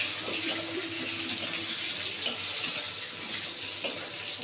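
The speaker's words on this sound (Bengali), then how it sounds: "এবার আলুগুলো খুব সুন্দর করে একটু ভালো করে লাল করে ভেজে নেবো" Salted, turmeric-coated potatoes frying in oil for a hilsa curry, a dense continuous hiss with occasional stirring knocks, close and fairly loud.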